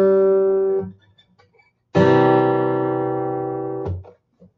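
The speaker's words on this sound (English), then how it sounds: "Dave, could you please play three notes and then a chord?" A single instrument plays one sustained note, pauses for about a second, then sounds a fuller chord that rings for around two seconds before a brief final plucked tone. No voices are heard.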